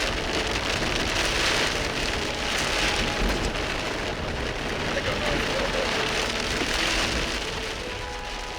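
Steady heavy rain pours down during a tornado outbreak, loud and continuous, with someone speaking briefly under the downpour.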